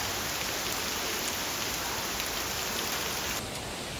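July rain pouring steadily outdoors, a constant broadband hiss of drops on surfaces, even in level, with a slight change in tone near the end and no one talking.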